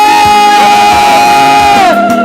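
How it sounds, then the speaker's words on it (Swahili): A church congregation cheers and ululates in loud, sustained high trilling voices that swell together before tapering off at the end. "Shangwe na vigelegele kwa Bwana wewe."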